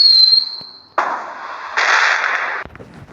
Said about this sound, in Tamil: இது என்ன யானை வெடி மாதிரி இருக்குது.